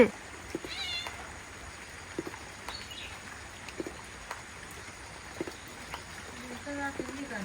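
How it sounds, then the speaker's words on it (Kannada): A cat meows several times, faint and somewhat distant, with quiet background noise between the calls. "ಅದು ಬೆಕ್ಕು ಕುಗಿದೆ"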